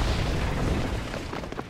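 Cannon fire in the Trine 2 video game: a dense, booming blast with a broad rumbling low end that stays loud and sustained across the whole short moment, alone without talk.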